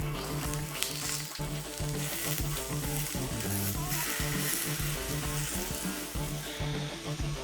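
Eggplant slices sizzle and crackle on a lightly oiled grill, a steady close-up frying hiss that runs the whole time with faint clinks and no talking.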